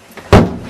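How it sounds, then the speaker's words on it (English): A bathroom door in a frat house at a camp slams shut with one sudden, loud, close thud, after a quieter rustle, then the room noise fades slowly. "Shut the door!"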